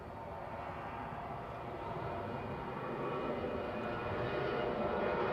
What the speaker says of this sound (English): Did you think this Ryanair was a big plane? The noise? Full beam departure,